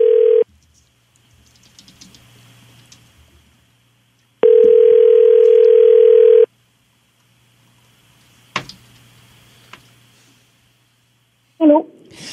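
A French telephone call plays its ringing tone: two long, steady, loud beeps separated by a few seconds of quiet line hiss, then a click and a brief breathy noise.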